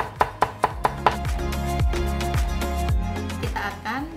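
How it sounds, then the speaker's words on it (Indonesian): A knife chops an onion on a board: about five crisp, quick chops close up, followed by a steady tonal background with no further cuts. "Kita akan mencincang bawang."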